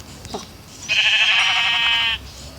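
A sheep bleats in the video game Minecraft, one long, loud, wavering synthetic bleat held for just over a second after a short faint sound at the start.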